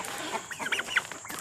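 Turkeys on a farm at feeding time give a quick cluster of close, sharp clucks and chirps over light background noise.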